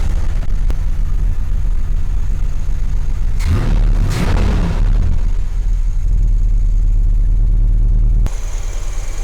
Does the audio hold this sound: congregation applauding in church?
no